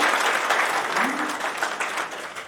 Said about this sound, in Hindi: तालियों द्वारा अभिनंदन करेंगे